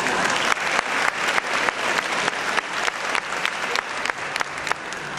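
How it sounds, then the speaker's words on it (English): A gala audience at a celebrity ball bursts into dense, sustained applause, many hands clapping loudly and evenly for several seconds with no voices standing out. "That's where you applaud."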